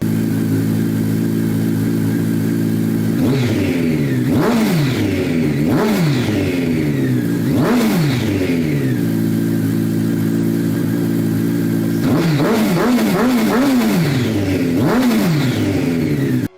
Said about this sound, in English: The Blackbird's got an interesting engine note, being a massive displacement inline 4.